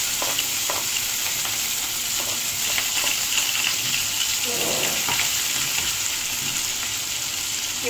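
Cumin, asafoetida, mustard seeds, fenugreek and two dried red chillies fry in hot oil for a boondi curry, a loud steady sizzle with scattered crackles and pops throughout.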